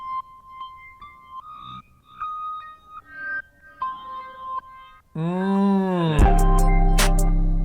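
Short synthetic tones step through a melody, then a harsh, buzzy robotic-sounding chord swells loudly, cut with stuttering bursts at the end.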